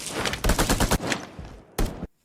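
A rapid burst of loud video game gunfire, several closely spaced shots followed by a pause and one final sharp shot, with no voices.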